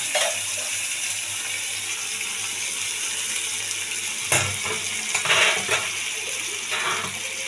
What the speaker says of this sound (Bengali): এই দেখুন জল দিয়ে দিলাম।